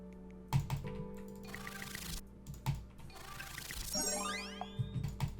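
Rapid clicking while playing the Roblox game Miner's Haven, a quiet run of taps mixed with chiming game dings and a rising whooshing effect, no talk.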